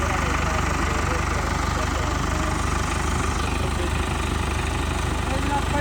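A tractor engine idles with a steady, unbroken rumble and vibration, loud and close for the whole stretch with no talking.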